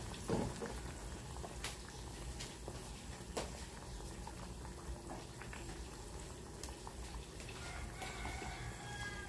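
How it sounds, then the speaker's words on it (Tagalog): Steady bubbling and roiling of water at a full boil in a pot, a continuous dense patter close by with no voices. "Yan, kumukulo na."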